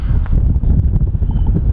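Strong wind buffets the microphone on a golf course at Carnoustie, a continuous low, rumbling roar with gusty surges and no pause across the short stretch.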